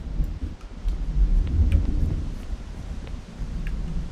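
Rolling thunder from the video game Eco, a low rumble that swells and fades over a few seconds with faint crackling on top, fairly quiet and heard alone.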